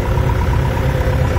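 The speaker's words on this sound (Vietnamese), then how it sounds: "bây giờ em nổ máy lên cho các bác xem nhá" Diesel engine of a 2015 Hitachi ZX55UR-3 mini excavator running after start-up, a steady close low rumble throughout with no talk.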